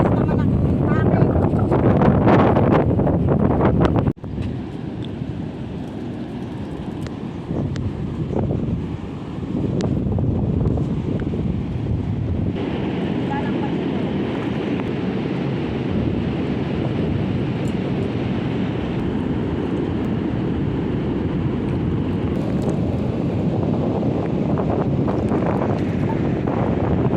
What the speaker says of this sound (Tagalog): Ang lakas naman ang hangin.